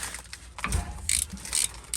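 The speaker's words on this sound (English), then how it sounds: "I'm gonna loosen up the drain plug." A ratchet clicks while loosening the drain plug on a Chevy Silverado 9.5 rear axle, giving short bursts of quick metallic ticking close up, with a dull thump partway through.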